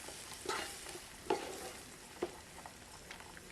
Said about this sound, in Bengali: কোচানো ক্যাপসিকাম, ছাড়িয়ে রাখা মটরশুঁটি আর কাঁচা লঙ্কা নিয়ে ভালোভাবে একবার নাড়িয়ে নেব